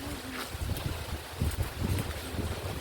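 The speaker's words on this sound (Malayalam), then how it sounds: "നല്ല കാറ്റാ. ഈ കാറ്റ് മിക്കവാറും എല്ലാം കൊണ്ടുപോകണം." Strong wind rumbles and buffets steadily against the microphone, a continuous low roar with gusty swells.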